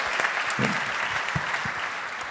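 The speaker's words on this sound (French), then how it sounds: "j'aimerais qu'on applaudisse Stéphane Bidot, TEB, formidable." A security awards ceremony audience applauds a company representative with a steady wash of clapping, a few louder nearby claps and faint voices underneath.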